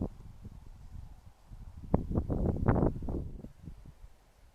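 Wind gusts sweep through ornamental grasses, including feather grass and pennisetum, beside a road, a soft rushing swell that builds and peaks midway before easing off, with no talk.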